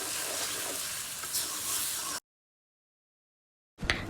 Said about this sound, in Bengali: ভালোভাবে মশলা কষিয়ে নিতে হবে যতক্ষণ তেল না উঠে আসে